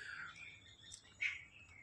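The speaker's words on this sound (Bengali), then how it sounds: "শুধু পাখির ডাক আর কিচ্ছু পাবেন না এই জায়গাটায়।" Birds at a quiet temple picnic spot beside open farmland give a few faint, brief chirps, with the sharpest one near the end over a hushed, still background.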